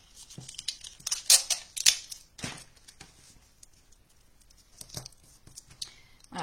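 Adhesive tape is pulled and torn off the roll in several sharp, crackling rips, followed by quieter handling noises and pauses.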